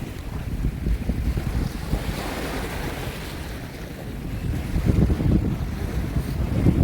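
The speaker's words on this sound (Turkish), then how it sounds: "Avustralya'nın okyanusu." Ocean surf on the Australian coast at a seaside campground, a steady broadband wash of waves mixed with strong wind buffeting the microphone, swelling louder toward the end, with no talk.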